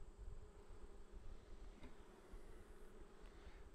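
A soft, steady buzzing hum of many honey bees at a hive, low and constant throughout, with no talking.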